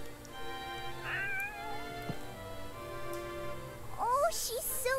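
Cat meows from a video game cat cafe, a few rising tonal calls near the start and a cluster of higher meows toward the end, heard over steady game music.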